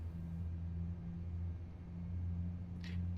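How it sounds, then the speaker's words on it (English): Engines of a FlyByWire Airbus A380X starting up in Microsoft Flight Simulator, a steady low droning hum with a faint whine that holds evenly throughout, with no voices. "So you can hear the engine starting up now, which is pretty cool."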